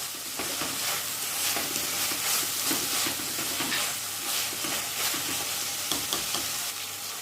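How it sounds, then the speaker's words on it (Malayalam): Chopped tomatoes frying in a pan for a Kerala chicken biryani, a loud continuous sizzle with stirring scrapes rising and falling throughout, close and without voices. "രണ്ട് തക്കാളി ഇങ്ങനെ ചെറിയ കഷ്ണങ്ങളായിട്ട് കട്ട് ചെയ്തു തക്കാളിയും കൂടി ചേർത്ത് നന്നായിട്ട് മിക്സ് ചെയ്ത് വാഴറ്റി കൊടുക്കാം"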